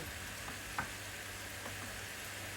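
Onions sautéing in a pan for a raw papaya and hilsa fish curry: a steady, even sizzle with one brief soft clink, close by and without speech.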